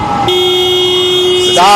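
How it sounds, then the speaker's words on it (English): A car horn honks in one long steady blast outdoors near a street during a walk before a Kentucky vs. Georgetown exhibition, loud and close, briefly joined by a raised voice at the end. "Stop honking, please."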